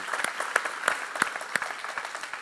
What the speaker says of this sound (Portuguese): Eu que estou te aplaudindo.